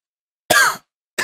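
A man gives one short, sharp cough, recorded close on a microphone with noise suppression, set against dead silence, and a second cough starts just as the recording cuts off.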